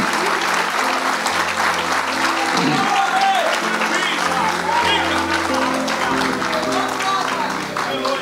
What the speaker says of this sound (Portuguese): um novo e lindo e demorado e vibrante aplauso ao Senhor